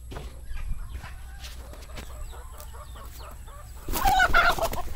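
Backyard chickens and a rooster cluck in scattered bursts, with a louder flurry of agitated squawking near the end, close by over a low hum, no speech.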